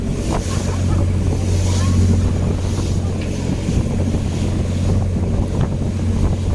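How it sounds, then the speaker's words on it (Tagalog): Steady rushing wind and water wash under a droning jetty boat motor on rough sea off Singapore, continuous and loud, with strong waves slapping against the hull throughout. "Masyadong malakas yung alon."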